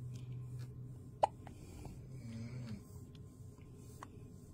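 A single sharp hiccup from a newborn baby in a hospital room, one brief distinct burst near the start over a steady low hum and faint breathing, with no voices.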